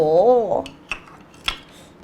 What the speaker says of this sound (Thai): หั่นพริกด้วย